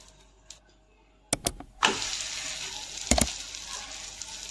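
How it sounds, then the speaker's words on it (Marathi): A stuffed paratha roasts in oil or ghee on a hot pan, a soft sizzle building into a steady hiss after a few sharp clanks, with another brief clatter partway through. "आता याला भाजूया. हा पॅन आपला तापलेला आहे, तर याला असं तेल किंवा तूप लावून घ्यायचं आहे"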